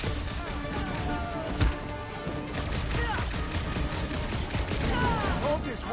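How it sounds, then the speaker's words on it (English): Dense gunfire in a Guardians of the Galaxy video game battle, rapid overlapping shots and impacts filling the scene continuously, with characters shouting over the din. "I hear way too much shooting!"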